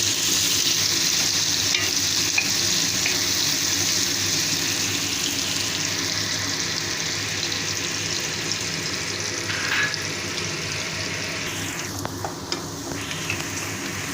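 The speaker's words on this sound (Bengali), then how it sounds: "পেঁয়াজটাকে আমি একটু ভাজা ভাজা করব।" Chopped onions fry in hot oil for a Bengali fish curry, a continuous close sizzle with light stirring scrapes, a brief splash of running water near the end, and no talk.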